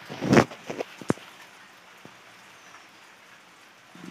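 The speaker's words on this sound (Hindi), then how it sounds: "और देखो बारिश हो रहा है" Rain falling outdoors, a faint steady patter under a few close rustles and knocks at the start, then a quiet continuous wash of drops.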